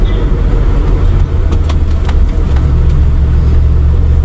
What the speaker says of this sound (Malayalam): ബസ്സുകളും പുറപ്പെട്ട് തുടങ്ങി.